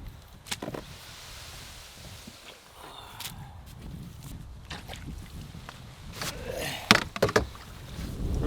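A canoe is fetched and handled outdoors on a trip in Temagami: scattered knocks, scrapes and hollow thumps with footsteps and rustling, faint and irregular, a louder cluster of bumps near the end.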